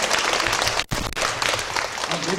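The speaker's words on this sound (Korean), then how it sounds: "박수 한번 쳐드리세요." A church congregation claps during a pastor's installation thanksgiving service, dense applause that dips for a split second before swelling again and continuing steadily.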